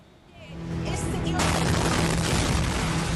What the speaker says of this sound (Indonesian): seorang pembaca berita, Sahar Emami, berusaha melanjutkan siaran meskipun ada suara ledakan